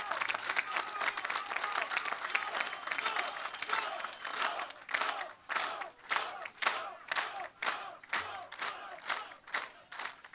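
Crowd applause with cheering at an outdoor political rally for the GROM party in Kisela Voda, Skopje, starting as dense clapping and breaking into rhythmic bursts toward the end, steady and fairly loud throughout.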